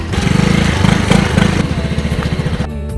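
A motorcycle engine runs loud and close near a hidden river, its rapid pulsing chug clattering steadily and shifting rhythm before cutting off abruptly at the end.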